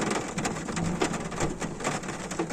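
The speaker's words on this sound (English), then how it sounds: "The heavens have just opened and the drops are absolutely massive. It's thundering, there's lightning" Heavy rain with large drops patters and hisses steadily and densely, nearby and fairly loud, with no clear thunder rumble standing out.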